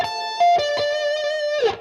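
A guitar plays a quick minor 7 arpeggio with two notes per string, picked notes ringing clearly with a bright, slightly distorted tone.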